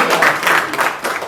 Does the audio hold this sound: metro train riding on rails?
no